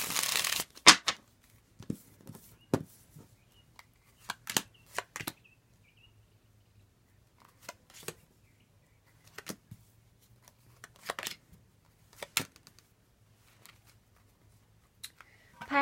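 Tarot cards are shuffled in brief riffling bursts separated by quiet pauses, close and crisp against a faint low hum.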